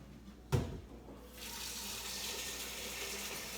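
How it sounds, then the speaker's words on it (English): A kitchen sink tap runs over dry pinto beans being washed: a short knock is followed by a steady, close rush of flowing water that fills the rest of the moment. "Now I'm going to go over here to my sink, and I'm going to wash the beans."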